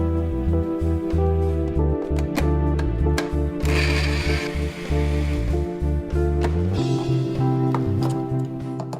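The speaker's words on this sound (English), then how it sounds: "add 12 cloves of garlic, 60 grams of ginger, and 4 tablespoons of water into a blender and blend until smooth" A blender purees twelve garlic cloves, 60 grams of ginger and four tablespoons of water for a beef biryani masala, giving a loud, steady motor whir with a churning rush that runs the whole time, no voices.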